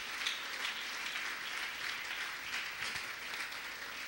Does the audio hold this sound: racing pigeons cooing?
no